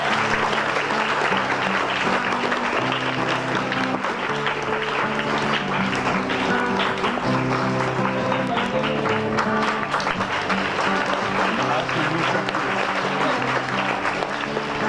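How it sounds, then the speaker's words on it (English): Audience applause fills a felicitation ceremony hall as a guest is honored on stage, a dense, steady clapping lasting the whole stretch, moderately loud and continuous. "Please give a huge round of applause for them."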